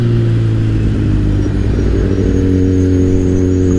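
A Kawasaki motorcycle engine drones loud and steady close to the rider, holding a strong, rising hum with no pauses throughout.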